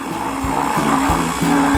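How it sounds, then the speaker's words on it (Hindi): An electric blender crushes strawberries with Sprite for a layered cocktail, a loud steady motor whir with rhythmic surges as the blades chop through the fruit, running alone without talk. "यह सब भी एक ब्लेंडर में अच्छी तरह से क्रश्ड होना चाहिए"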